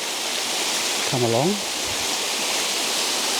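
The Water-breaks-its-neck waterfall roars as a steady, loud hiss of rushing water right nearby, and a person speaks briefly over it.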